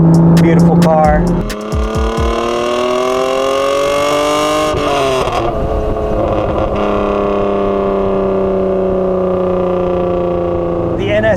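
A 1991 right-hand-drive Japanese-market Honda NSX revs and pulls away, its engine note climbing and shifting through sustained rising tones, loud and close from inside the car.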